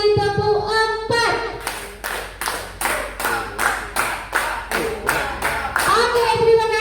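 A group plays a counted clapping ice-breaker game in a school gathering, giving a long run of about a dozen sharp, evenly spaced claps in steady rhythm, with voices at the start and end.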